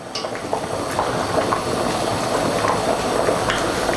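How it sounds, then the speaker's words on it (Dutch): A pot of soup boils on a stove, giving a steady, close bubbling roar with small pops and gurgles that runs unbroken from start to finish. "Hij is al aan het koken."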